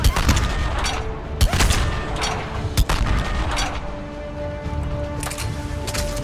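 Repeated gunfire from the player's weapon in Mass Effect 3, loud sharp shots in quick bursts over a dense backdrop of combat effects and distant booms.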